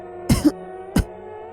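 Two short coughs, a double hack followed by a single one a moment later, close and fairly loud against a quiet background.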